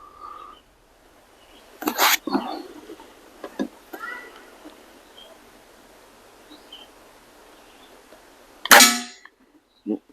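A vintage Weihrauch HW55 air rifle fires once, giving a sharp, loud crack near the end, after an earlier snap and small clicks, with faint bird calls in the quiet background.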